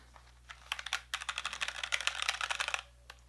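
Fast, steady typing on a Razer keyboard connected by micro USB, a close burst of dense clicky keystrokes lasting about two seconds, followed by a single stray key press, with no talking.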